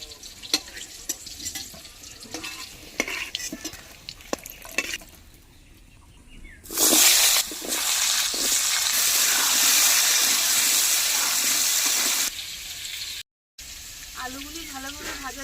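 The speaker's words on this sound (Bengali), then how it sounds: "এবার একই তেলে আবার আলুগুলো ভেজে নেব" Potatoes dropped into hot oil already used for frying fish and pointed gourd hiss loudly in a broad, steady sizzle lasting several seconds, after softer stirring and clinking; later a brief gap, then quieter frying.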